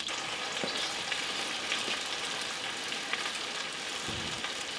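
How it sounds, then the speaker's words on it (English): General Tso's cauliflower sauce bubbling in a pan, a steady close sizzle with faint pops and crackles throughout, no voices. "you can see how that's boiling, right?"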